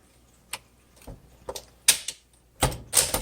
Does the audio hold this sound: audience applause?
no